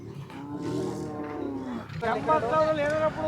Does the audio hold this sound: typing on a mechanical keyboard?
no